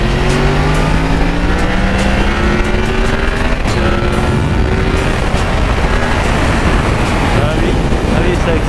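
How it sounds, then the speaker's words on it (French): A Yamaha MT-10 motorcycle accelerates hard on the road. Its engine note rises in pitch in repeated waves as it shifts through the gears, and the sound stays loud and steady under heavy wind rush. "Ah oui, ça accélère quand même pas mal, hein. Oh, l'accélération."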